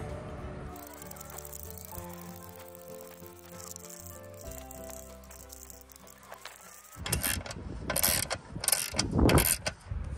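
A wrench works the U-bolts on a truck-mounted RockyMounts BackStage bike rack, making a rapid metallic ratcheting rattle in bursts, then louder clanking and scraping handling near the end.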